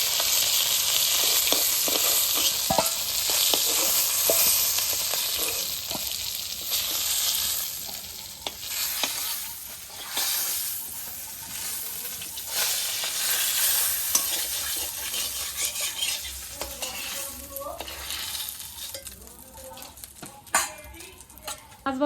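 Fish oil sizzles in a pan on a village kitchen stove while a metal spatula stirs and scrapes, with occasional clinks of utensils, the frying hiss loud at first and easing later.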